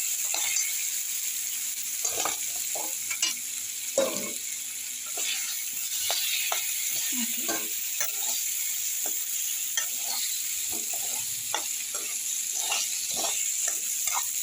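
Ridge gourd (dodka) sautéed in spice masala sizzles steadily and close up, while a spoon scrapes and stirs the pan in frequent soft strokes.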